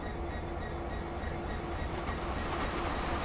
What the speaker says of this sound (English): Train going past.